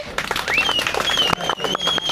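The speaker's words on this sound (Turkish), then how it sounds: "Taner'i beğenenler alkışlayabilir mi?" An audience on a Kadıköy street claps for a performer named Taner, a brief burst of scattered hand claps with a shrill whistle riding above the crowd noise.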